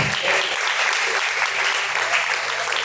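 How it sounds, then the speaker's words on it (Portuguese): A church congregation claps in praise during a worship service, dense continuous applause at close range, steady and loud throughout with no pauses. "palmas que louvam o nome do Senhor."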